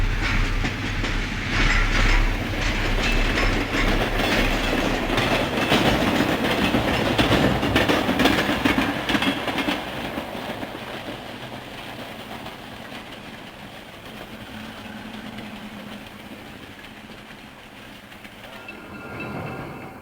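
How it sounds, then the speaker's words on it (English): EMD GP40 and Alco Century 425 diesel locomotives haul a train of empty freight cars near Toledo, a loud rumbling passage with clickety-clack of wheels over rail joints that gradually fades as the train rolls by. "an EMD GP40 and an Alco Century 425 heading up another train of empty cars"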